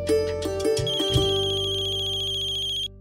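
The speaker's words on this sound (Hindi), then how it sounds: "अरे ये तो पायसा का फोन है" A mobile phone rings with a loud electronic ringtone melody that plays steadily for about three seconds before cutting off, with no voices over it.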